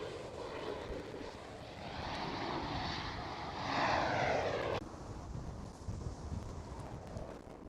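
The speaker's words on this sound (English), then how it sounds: "Another Embraer 190, KLM City Hopper." A KLM Cityhopper Embraer 190 passes at Schiphol airport, a broad, steady jet roar that swells to a peak and then drops off abruptly, heard from a moderate distance with no talking.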